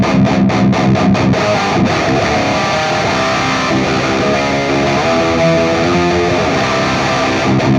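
Electric guitar played through a JOYO preamp pedal with its feel switch in the bottom, bass-heavy mode gives a continuous thick distorted tone, loud and close. The playing opens with a quick run of picked chugs, then moves into sustained riffing.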